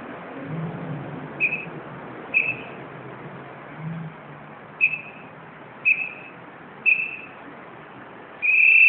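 An electronic pedestrian crossing signal at an intersection chirps in short, evenly spaced tones that end in a longer, louder tone, heard over a low hum of traffic.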